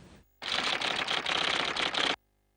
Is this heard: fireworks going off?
no